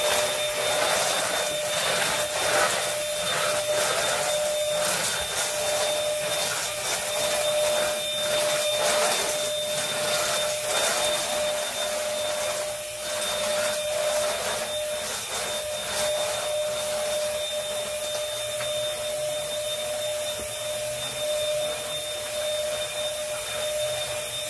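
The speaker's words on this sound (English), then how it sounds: "I got to vacuum." A vacuum cleaner runs continuously up close, a steady loud whine and roar that holds level throughout with no pauses or voices.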